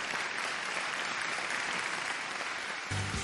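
A dense, continuous wash of applause fills a concert hall as a Ukrainian district's amateur performers take the stage at a Shevchenko anniversary show, with music starting briefly at the very end.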